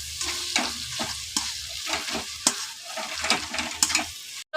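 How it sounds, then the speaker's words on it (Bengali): Onion, chilli powder and spices are stirred and fried in oil in a pan, with steady sizzling broken by repeated sharp scrapes of the spoon, close and clear with no talk. "মশলাটা কষানো হয়ে গেছে,"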